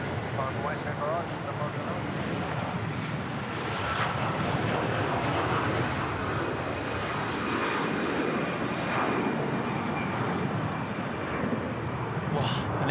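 An airliner roars down runway 34 right at Sydney Airport on takeoff, a loud, sustained broadband engine rumble that stays steady and close throughout, with voices talking over it.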